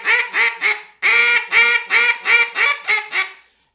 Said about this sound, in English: You're going to pick up your duck call, and you're just really, really, really going to get on them.